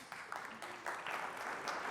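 An audience slow clap at a live presentation event: scattered claps building into broader applause over two seconds, moderately loud and not very dense, with no talk over it.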